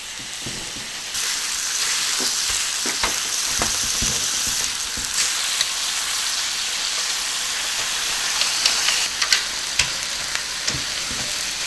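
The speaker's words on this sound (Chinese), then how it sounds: "先用大火把水分给它煎干哈" Food fries over high heat, cooking off its moisture with a loud, steady sizzle broken by occasional sharp crackles and pops, close up with no talk.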